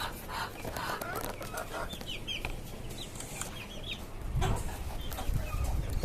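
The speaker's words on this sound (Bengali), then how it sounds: "আর এইখানে আমার আরো কিছু বেশি মুরগি আছে" Desi and tiger chickens in cages on a rooftop farm cluck and chatter in short bursts against a steady rustling background, with a few louder squawks near the end.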